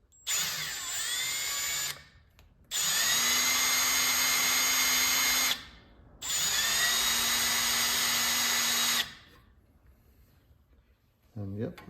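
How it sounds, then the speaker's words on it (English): A power drill spins at low speed on an RV-12 aircraft test kit in three long sustained whining runs separated by short pauses, close and loud, with a brief rising whir at the very end. "that's why we're using this drill"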